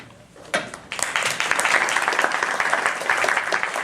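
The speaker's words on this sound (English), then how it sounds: "Double applause." An audience at a San Jose community panel breaks into sustained applause for the new police chief, starting with a few claps and then swelling into a dense, steady roomful of clapping that continues to the end.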